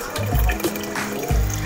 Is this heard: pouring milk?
yes